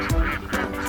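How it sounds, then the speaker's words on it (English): Two or three quick duck quacks sound close by in a brief burst, with no talking. "The ducks are attacking us."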